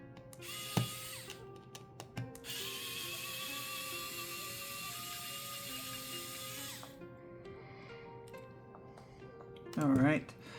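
An electric screwdriver whirs in short bursts and one longer sustained run while taking apart a Nintendo Switch Lite, with small clicks and handling between runs and a brief voice near the end.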